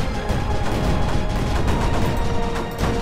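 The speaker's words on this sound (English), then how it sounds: "we're getting rockets" Rockets fire in the strategy game Creeper World 4, a dense, continuous barrage of overlapping launches and blasts with no pause, loud and close throughout.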